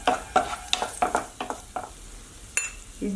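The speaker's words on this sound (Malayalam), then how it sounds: "ഒന്നിച്ച് ഈ അവലും കൂടി ഇട്ടിട്ട് ഒന്നുകൂടെ റോസ്റ്റ് ചെയ്തെടുക്കണം" Flattened rice (aval) roasts in ghee in a pan, stirred with a spoon that scrapes and taps the pan in a series of quick, close strokes over a faint sizzle.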